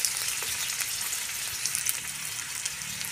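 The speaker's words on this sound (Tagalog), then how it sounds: "Ibubuhos natin yung ating bulalo. Igigisa lang po natin yan hanggang sa lumabas yung kanyang katas." Beef shank for bulalo sautéing in a pan with onions, a dense continuous crackling sizzle that stays loud and even throughout.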